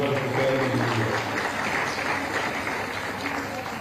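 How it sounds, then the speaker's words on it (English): An audience at a PowerPoint presentation event claps for the faculty, a dense and steady round of applause that eases off slightly toward the end. "we should give a big round of applause to the faculty as well"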